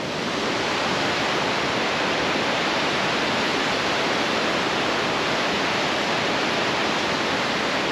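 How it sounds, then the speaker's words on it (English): A waterfall in Montana roars as a dense, continuous broadband rush of falling water, steady and loud throughout with no voices. "A beautiful waterfall."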